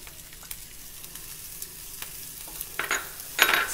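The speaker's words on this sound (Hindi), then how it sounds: "जैसे ही अब ये थोड़ा सा लहसुन ब्राउन होगा हम इसमें साथ में ही प्याज डाल देंगे।" Onions frying with browned garlic in a pan give a faint, steady sizzle with a few soft stirring clicks and scrapes, growing a little louder near the end.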